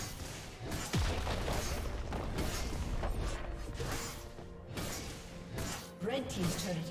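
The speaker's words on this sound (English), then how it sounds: "Red team's turret has been destroyed." A turret being destroyed in League of Legends, with deep booming blasts, whooshes and mechanical crunches layered over busy in-game action, while a voice speaks over the clamor.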